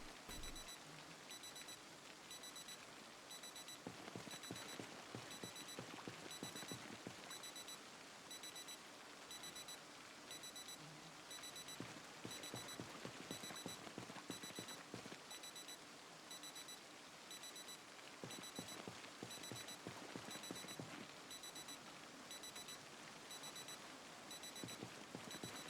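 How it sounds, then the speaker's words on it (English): An alarm beeps inside the video game Project Zomboid, a faint, steady pattern of repeating high electronic beeps that keeps going throughout over a soft rain-like background hiss, with no one speaking. "which one of you jugsters forgot to turn their alarm off?"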